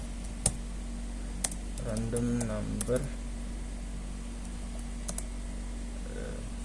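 Computer keyboard keys click sparsely while someone types code, a few isolated taps spread over several seconds in a quiet room with a low hum and a brief murmur of voice in the middle.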